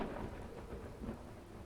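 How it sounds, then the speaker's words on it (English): Steady rain with a low rumble of thunder outside a stone building in Skyrim's city of Solitude, a continuous wash of noise heard from indoors, with no speech. "Even the rain and thunder outside sounds marvelous echoing off this stone."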